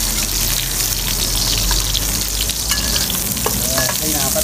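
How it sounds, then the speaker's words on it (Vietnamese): Garlic fries in hot oil in a pan, giving a steady, close sizzle with light scraping and stirring noises throughout and no talking. "Thì khi mình đổ dầu vào rồi mình sẽ bỏ tỏi vô"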